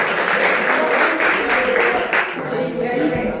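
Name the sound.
students applauding in a classroom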